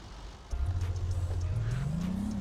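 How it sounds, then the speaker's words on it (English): A car in the Big Ambitions video game starts up and drives, its engine a steady low hum that rises in pitch as it speeds up, close and without talk. "So I'm gonna go and jump in the car."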